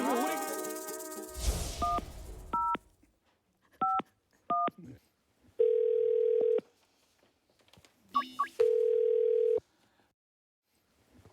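Telephone handset on a Korean TV variety show: a steady dial tone, then several short two-tone keypad beeps in quick pairs, and two longer held tones while a call is placed, moderately loud with quiet gaps between.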